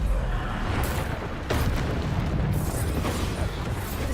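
Bombarda blasting spell explosions in the video game Hogwarts Legacy, loud booming bursts over a dense, roaring battle din, with sharp blasts landing near the middle and end.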